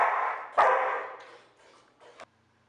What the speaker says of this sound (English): high-pitched barks and grunts, playful biting.